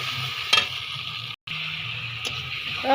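Ginger-cumin paste fries with potatoes and shrimp in a pan, giving a steady close sizzle with a couple of stirring clinks and one brief dropout in the middle, with no voices.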